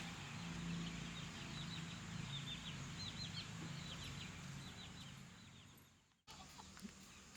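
Aseel chickens on a farm flock of about 150 birds, clucking and calling faintly at a distance over a steady outdoor hum, with a brief dropout near the end.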